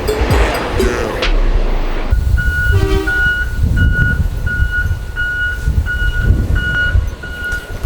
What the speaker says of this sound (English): pretty sure that garbage truck has a train horn